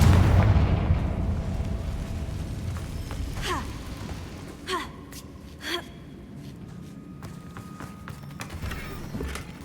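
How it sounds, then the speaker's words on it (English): A Confringo fire spell goes off in Hogwarts Legacy as a few sharp, booming blasts at short intervals, heard against the game's ambient background. "Confringo."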